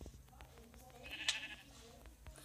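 A sheep in a survival video game gives one faint, brief bleat partway through, against quiet background game noise.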